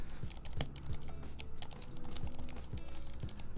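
Mechanical keyboard switches, believed to be Zilents, are pressed in a quick, irregular run of close clicks and clacks, and low muffled thumps sound between the presses.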